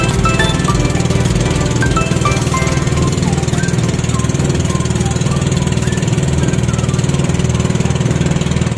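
A fishing boat engine drones loudly and steadily throughout, a constant mechanical rumble close by with no pauses, on the sea off an island in Occidental Mindoro.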